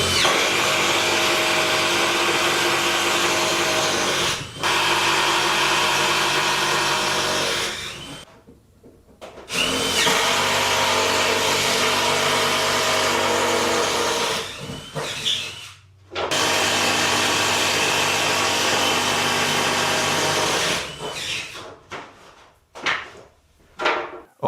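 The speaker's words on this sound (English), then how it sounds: "I need to drill a million holes and run a bunch of wire" Long bursts of loud, whirring power-drill noise drilling holes in old Warhammer boards, three main runs separated by brief pauses, then several short spurts at the end.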